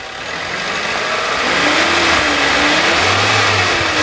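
A 2015 Suzuki Carry Futura Mega Cargo 1.5 pickup engine, a used vehicle with a smooth-running motor, revs up from idle and holds a steady, loud, rising drone close by.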